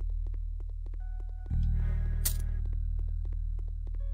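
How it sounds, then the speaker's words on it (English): A floating enemy in a horror video game gives off a steady low electric hum and throbbing drone that thickens about halfway through, with faint ticking pulses above it and no talk. "There's like this floaty thing that has like an electric sound that goes with it."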